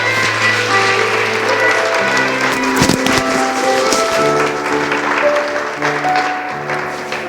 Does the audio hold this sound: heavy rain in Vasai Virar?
no